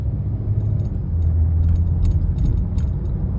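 A Ford Mustang pulls away from a green light and shifts through its gears. A low engine rumble holds close and steady, and light metallic jingles and rattles run over it.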